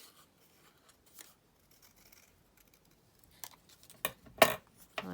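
A few quiet snips of scissors cut paper while trimming a card, sparse soft clicks at first, then two or three crisper, closer cuts near the end.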